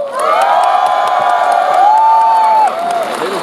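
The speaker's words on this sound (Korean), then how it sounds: "축하 공연 지금부터 큰 박수로 시작하겠습니다" Festival crowd at an outdoor military-civilian celebration opening cheering loudly, with shouts and whoops from many voices rising together in a sustained roar.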